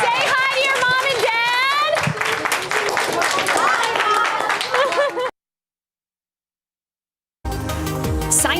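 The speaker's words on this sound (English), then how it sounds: "Give yourselves a round of applause." A group of children clapping and cheering in a dense burst of applause with kids' voices mixed in. A short silence follows, then more noise resumes.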